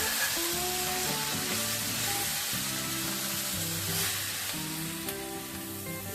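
Masala being fried down in a pan after sugar and plenty of coriander leaves go in, a continuous close sizzle over a steady background hum, with no voices.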